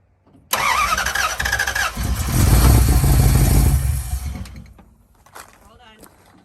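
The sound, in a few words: 1969 Dodge Dart engine cranking and starting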